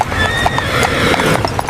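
A carriage horse's hooves clip-clop quickly and loudly up close, with a rapid, uneven run of hoofbeats as the horse bolts.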